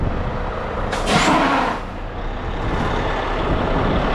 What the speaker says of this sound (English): Set your brakes.